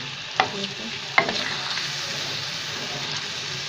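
Dal fries in hot oil in a pan as it is stirred, a loud close steady sizzle with a couple of sharp utensil knocks near the start.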